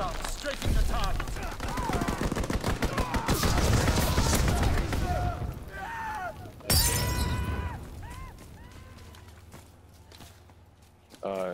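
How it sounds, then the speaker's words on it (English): In Call of Duty WWII, a fighter plane strafes the ground with a long rapid burst of gunfire and crackling impacts, then a second loud burst, while game voices and effects sound beneath. "Fighter pilot inbound, strafing the target."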